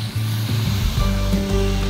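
Chili, garlic and shallot paste, coarsely ground, sautéing in oil in a pan, giving a steady, loud hiss and sizzle that runs throughout without pause.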